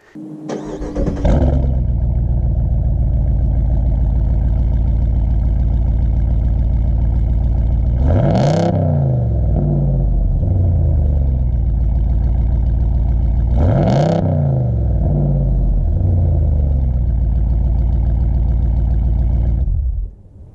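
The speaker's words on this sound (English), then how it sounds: "I put a solo performance muffler delete on this, and I think that is how these trucks should sound" A 2019 Ram Power Wagon with a Solo Performance muffler delete starts up and settles into a loud, deep idle. Two sharp throttle blips rise and fall back to idle before the engine shuts off.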